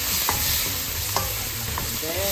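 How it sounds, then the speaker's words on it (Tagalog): Tomato and squash sizzle in a hot pan while a utensil stirs and scrapes, with a steady frying hiss under several distinct stirring clicks, close and alone. "Lutuin mo natin ang ating kamatis. Lagyan natin ang ating kalabasa."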